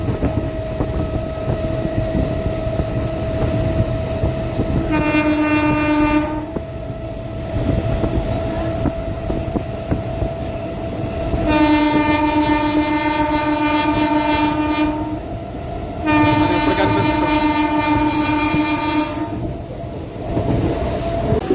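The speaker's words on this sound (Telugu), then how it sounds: "ఇప్పుడు మన ట్రైన్ పాము మెలుగులు కొట్టుకుంటూ ఆ చివరి ప్లాట్ఫామ్ మీద వెళ్తుంది చూడండి" A MEMU passenger train between Machilipatnam and Vijayawada rumbles steadily along the tracks with a low mechanical drone, broken by two long, loud horn blasts and a shorter one, fairly close.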